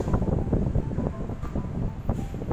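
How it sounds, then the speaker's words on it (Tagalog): Strong wind in Manila buffets the microphone in loud, rumbling gusts, with no talking. "Hangin ng Manila."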